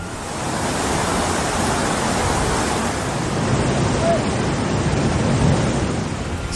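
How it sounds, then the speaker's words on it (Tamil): Flash floodwater rushes through town streets after a cloudburst, a loud, steady roar of churning water that fills the whole clip without letup. "இதனால் நகரின் பல பகுதிகளில் வெள்ளம் பெருக்கெடுத்து ஓடியது."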